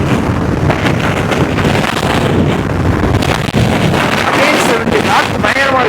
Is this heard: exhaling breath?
no